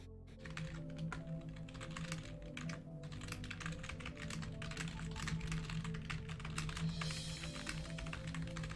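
Rapid, uneven clatter of keys on a worn computer keyboard, tapped continuously at close range over a low steady hum, with no voices.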